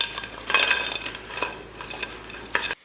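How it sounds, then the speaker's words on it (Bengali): Crispy, batter-coated fried chilli potatoes tossed on a plate give off a close run of dry crunchy clatters and light scrapes, with a louder burst near the start and another toward the end. "আলুগুলোর আওয়াজ শোনো কতটা ক্রিস্পি হয়েছে"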